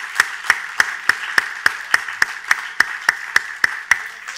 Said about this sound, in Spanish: Denle un aplauso al Señor si se lo quiere dar con todo el corazón